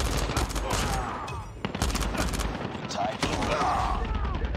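Automatic gunfire in the mobile shooter game Call of Duty Mobile, rapid rattling bursts that carry on through most of the moment, with a brief gap partway.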